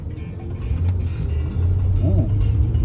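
A 2017 Blue Bird Vision diesel school bus engine running up close, a low rumbling drone with mechanical rattles and creaks, steady for a few seconds.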